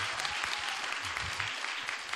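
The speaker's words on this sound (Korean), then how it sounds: "박수 한번 주세요." Studio audience applause on a Korean talk show, a dense steady burst of clapping close by that fills the whole short stretch without a break.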